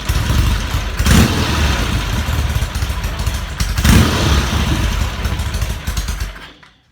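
A Norton Commando motorcycle engine idles loudly up close, a steady thumping putter with two brief swells in revs before it dies away at the end.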